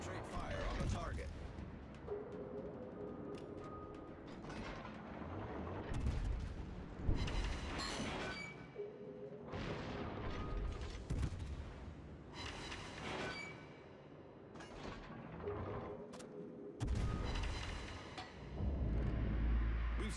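Heavy naval artillery in World of Warships during a battle: repeated deep booming salvos and crashing impacts roll through nearly continuous loud gunfire, with game voice callouts cutting in between.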